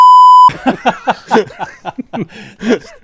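A single short electronic censor beep sounds, followed immediately by bursts of chuckling and laughter.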